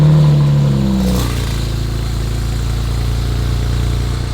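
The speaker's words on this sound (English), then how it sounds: "This exhaust setup, it's completely stock minus the downpipe. So it's just the ARM Catless downpipe for reference." A BMW E90 335i with the N54 engine, stock exhaust and ARM catless downpipes, heard up close: a brief rev that settles quickly into a steady, low, rumbling idle, with no talking.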